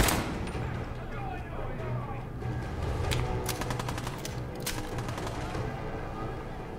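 Rapid bursts of gunfire from a Fallout 4 video game session, clustered volleys around the middle of the clip layered over game ambience and a steady low hum, with people talking through it.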